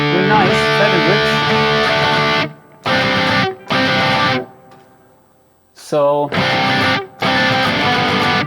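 Heavily distorted electric guitar through a Neural DSP Gojira X amp plugin, a fat crunchy tone with gain set moderately, played in loud bursts of chords and riffs separated by short pauses, with a brief spoken word.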